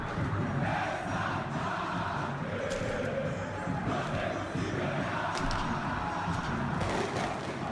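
Dense Brazilian football stadium crowd roaring and chanting in a steady, loud wash of massed voices, with occasional louder swells and whistles rising above the continuous din.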